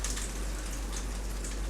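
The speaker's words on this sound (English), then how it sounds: "It's raining." Rain falling steadily, a constant dense patter with scattered louder drops over a low hum, with no voices.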